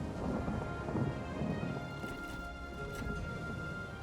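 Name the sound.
rain and thunder in the Fire Emblem Fates video game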